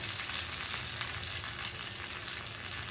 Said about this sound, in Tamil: ஆஃப் பண்ணிவிட்டு இந்த கருவேப்பிலை போடுறேன்